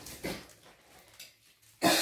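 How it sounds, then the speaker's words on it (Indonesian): A person coughing indoors during a repair of an E900 embroidery machine, a few short harsh bursts near the mic at the start and end with quiet gaps between, the last burst loudest. "Gue batuk gara-gara kebanyakan makan sosis."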